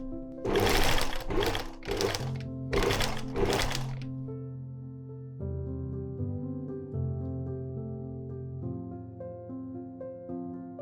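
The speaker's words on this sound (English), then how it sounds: "The last steps were to sew in a waistband for extra support" Sewing machine stitching a waistband onto a dress in four loud rapid bursts of needle chatter, then stopping as a steady low hum carries on.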